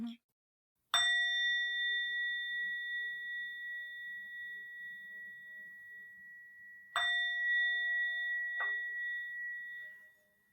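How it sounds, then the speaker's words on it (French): A small meditation bell struck twice, about six seconds apart, each clear ring sustaining and slowly decaying in a quiet room, with a faint extra tap near the end of the second ring and no talking. "la petite cloche, c'est simplement pour signaler le début de la pratique"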